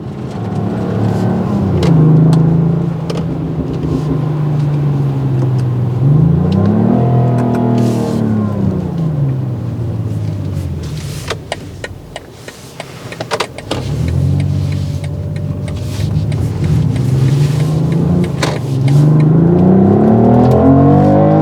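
A 2025 BMW X3's inline-six engine revs up and pulls hard, its pitch rising and falling through several gear changes, loud and close throughout with no talking.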